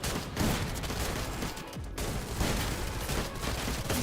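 Dense, continuous gunfire with rapid bursts and booms, loud and sustained throughout, a busy firefight in the shooter game Free Fire during a tournament match.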